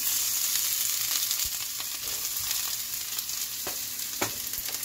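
Chopped onion, garlic and chili frying in oil in a skillet, a bright continuous sizzle with occasional spoon taps against the pan, close and fairly loud.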